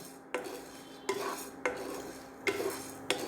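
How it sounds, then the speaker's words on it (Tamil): Chana dal dry-roasted in a pan, stirred at intervals: five distinct scraping, rattling strokes of the spoon against the metal, each followed by a dry rustle of lentils, no talking and no sizzle of oil. "அடுத்து கடலைப்பருப்பை நல்லா செவக்க வறுத்து எடுத்துக்கணும்"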